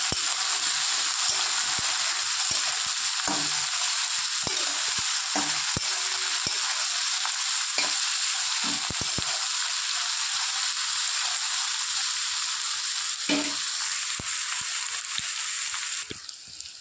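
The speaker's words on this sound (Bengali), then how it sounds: "ভালো করে নেড়ে চেড়ে একটু ভাজা ভাজা করে নেব।" Chopped eggplant stir-frying in a pan for a curry with small fish, giving a steady close sizzle of hot oil with occasional scrapes and stirring knocks, no talk.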